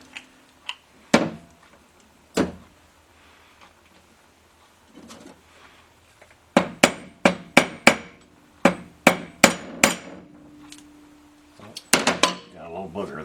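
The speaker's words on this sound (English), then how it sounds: "And now we can drive our pin in. Drive it from this side." A hammer drives a pin in, with a few scattered sharp strikes at first, then a quick run of evenly spaced, ringing metallic blows up close, ending in a fast cluster of hits.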